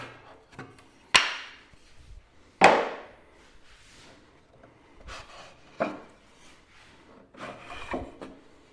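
Snug wooden spacers being knocked and worked loose from a workbench, giving a few sharp wooden knocks with scraping and rubbing in between, close and alone.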